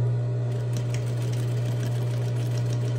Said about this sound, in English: I'm going to go ahead and turn my machine on. And I am stitching and back stitching this seam.